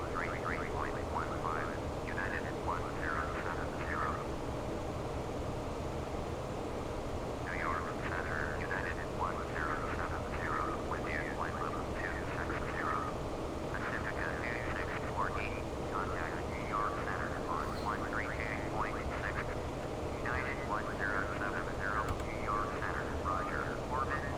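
An airliner flying in Microsoft Flight Simulator X, with a continuous even engine drone and wind rush that carry steadily under someone talking throughout.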